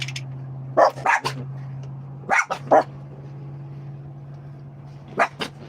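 Dogs bark in several short bursts of two or three yaps each, spread out with gaps between them, over a steady low hum in the background.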